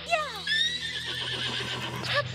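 A horse in the video game Princess Peach: Showtime! gives a loud, close whinny, a rising-and-falling neigh with a second shorter call near the end, over steady game background sound.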